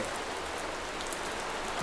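Heavy, continuous rain pours steadily during a landslide rescue in Wayanad, Kerala, a dense, even hiss of drops on surfaces with no pauses and no voices.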